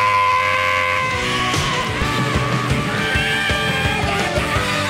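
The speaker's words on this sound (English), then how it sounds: "I think his scream is one of the greatest things we've ever produced." A man lets out a long, strained scream over loud, steady music with a thumping beat underneath.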